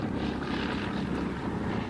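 A massed formation of Luftwaffe planes flies over the English Channel, a continuous, dense roar of propeller aircraft engines droning steadily, loud and unbroken, with no voices.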